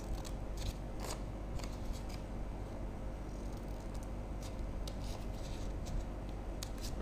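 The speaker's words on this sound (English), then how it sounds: "Next I am going to cut another smaller square piece with length 5" Scissors cut a square piece of paper, quick crisp snips in short runs over a loud steady background hum with no talking.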